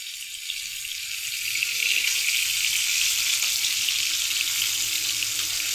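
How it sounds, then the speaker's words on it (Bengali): Potatoes frying in a pan of hot oil in a home kitchen give off a steady, bright hiss and crackle that swells after the first second and keeps going without voices. "এদিকে দেখো আলু ভাজিটা হয়ে যাচ্ছে"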